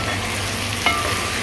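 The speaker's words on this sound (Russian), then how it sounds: "Сейчас режу лук и поджарю." Chopped onion sizzles in a hot frying pan at home, a steady close crackling hiss that continues evenly with a brief clink partway through and no voices.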